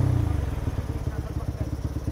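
A motorcycle engine idles close by with a rapid, pulsing throb, loud and steady.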